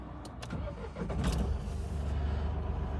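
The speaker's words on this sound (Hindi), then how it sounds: "अब मैं सेल्फ मारता हूँ" A Mahindra Bolero Neo N8 diesel cranks on its self-starter and catches, settling into a loud, steady diesel idle heard from inside the cabin, with a few clicks near the start.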